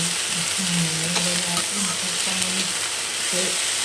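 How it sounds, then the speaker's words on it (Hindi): Mustard seeds and spices crackle in hot oil during tempering for a cauliflower, green pea and potato curry, a close, continuous frying sizzle with scattered pops and faint background tones. "तेल में फोड़न डाला है।"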